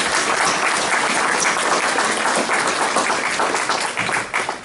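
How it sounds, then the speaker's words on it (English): Dense, sustained audience applause at a Chamber of Commerce chocolate-themed evening event, loud and continuous from many hands, thinning slightly in the last second. "So a big round of applause for all those that have made this evening."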